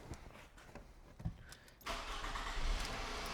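A 2007 Scion tC engine cranks briefly and catches, jumping from quiet clicks and shuffling into a steady, fairly loud idle close by.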